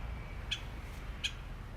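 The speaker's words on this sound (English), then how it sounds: "It's a woodpecker" Red-headed woodpecker calling twice, with two short, sharp, faint calls about three-quarters of a second apart over a low, steady outdoor rumble on a cold city day after snow.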